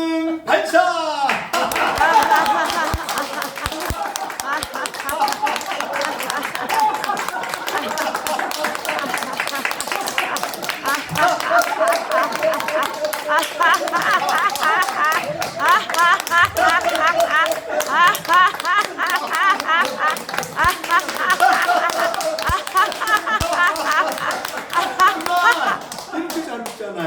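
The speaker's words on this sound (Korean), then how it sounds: "다 같이 옆 사람 얼굴 쳐다보고 손뼉 치면서 웃음 발사!" A large church congregation at a laughter-healing sermon claps hands and laughs together, a dense, continuous wave of loud clapping and mixed laughing voices running throughout.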